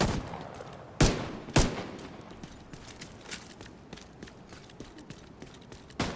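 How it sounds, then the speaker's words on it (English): Two loud, sharp shotgun blasts in The Division 2 about half a second apart, then a bed of softer scattered in-game gunfire and impacts. "2 headshots from a shotgun didn't kill him"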